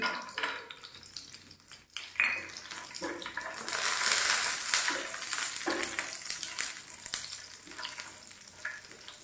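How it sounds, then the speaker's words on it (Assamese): Almonds frying in hot ghee in a pan make a continuous crackling hiss that swells and stays fairly steady, with a few faint spoon scrapes in between. "আৰু প্ৰথমতে আলমণ্ডখিনি ভাজি দিছোঁ।"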